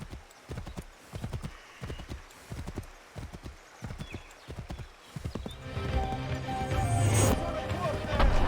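Horse hooves clip-clop in a steady rhythm from a horse-drawn carriage in Assassin's Creed III, with a horse whinnying, then a louder wash of game ambience and rumbling carriage movement swelling over the final seconds.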